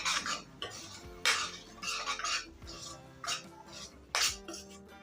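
A spoon scrapes and clinks through a tomato spice masala in a pan, in short irregular bursts of stirring with pauses between, fairly close and with no talk.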